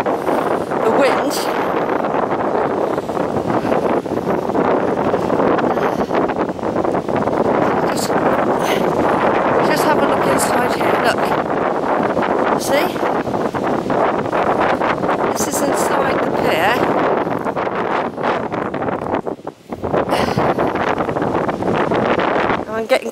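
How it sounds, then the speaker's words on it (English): Strong wind gusts buffet the microphone on a beach beside the Grand Pier, a loud continuous roar with rustling bursts that drops briefly near the end before surging back. "The wind."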